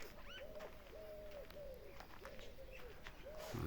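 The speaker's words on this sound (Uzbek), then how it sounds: "Qushni uyi bor ekan, uyidan turib sayrayapti ekan." Repeated tonal bird calls, steady and level, sounding every half second or so against a faint outdoor background with a soft rustle near the end.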